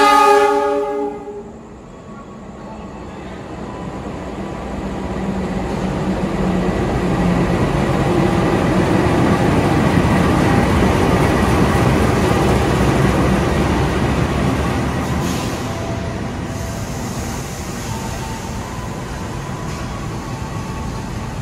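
The Kutojaya Utara train departs Kutoarjo station with a loud horn blast at the start, then a long rising and falling rumble of the carriages rolling past, with faint clatter over the rails and no voices.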